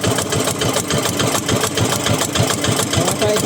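A diesel engine on a wooden boat runs steadily nearby with a rapid, even chugging knock that fills the clip with no voices.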